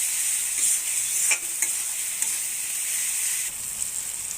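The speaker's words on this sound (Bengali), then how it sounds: "মশলাটা সুন্দর করে ভাজা হয়ে গেছে, তেল ছেড়ে দিয়েছে" Masala spices fry in oil in a pan with a continuous bright sizzle, close and even, and a few soft stirring knocks. No one speaks.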